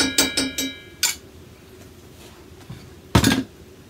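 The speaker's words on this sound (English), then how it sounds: "Spread it around a little bit with your spoon." A spoon scrapes and clinks against a hot frying pan while spreading cornmeal at a campsite cookout: several sharp metallic taps close together at the start, a few scattered scrapes, then a louder clatter near the end.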